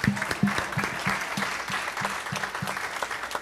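A church congregation claps after a sermon, steady broadband applause with a rhythmic low thumping underneath, filling the room at moderate level without speech.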